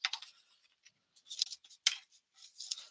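Scissors cutting jewelry-making material to length, a few quiet, close snips and clicks separated by brief silences.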